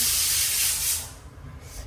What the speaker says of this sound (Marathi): आताच इकडे कुकरच्या शिट्ट्या होत आहेत.